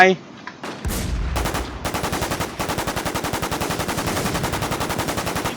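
Rapid automatic gunfire in the WarZ shooter game, loud close bursts breaking into a long, steady rattling stream of shots, with brief speech at the start.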